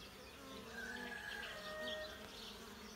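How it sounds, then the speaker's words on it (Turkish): Honeybees buzz steadily at close range at a busy hive entrance, a dense continuous drone with individual insects passing near, no voices. "gördüğünüz gibi arı giriş çıkışları çok aktif"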